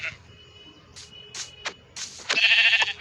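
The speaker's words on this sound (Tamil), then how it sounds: "இந்த ஆட்டுக்குட்டியை வேற அடித்தா உள்ளே வந்துடுமே" Sheep in the Minecraft video game bleat several times in short, nasal cries, the last call longer and louder, with no talk over them.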